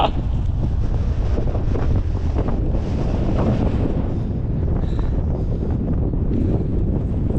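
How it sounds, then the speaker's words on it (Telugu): Strong wind roars continuously against the microphone, a loud, steady low rumble with no pauses, nothing else standing out. "మీకు శబ్దం వినపడే ఉంటుంది. చూడండి గాలి ఎట్టొస్తుందో."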